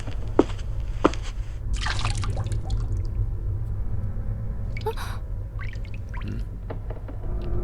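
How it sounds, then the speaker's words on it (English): Dripping water in the horror video game Corpse Party: scattered clear drips and small liquid splashes over a low steady rumble, quiet and irregular, with no voices. "I was suddenly distracted by the sound of dripping water nearby."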